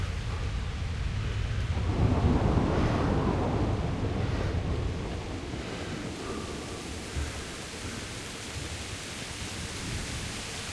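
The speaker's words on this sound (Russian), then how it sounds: "Мощные тут молнии." Rumbling thunder rolls through a stormy scene in Kingdom Come: Deliverance, a heavy low boom early on fading into a steady wash of rain-like noise, with no voices.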